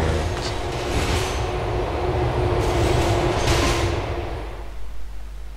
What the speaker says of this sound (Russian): Вот откуда я знал, что там поезд поедет?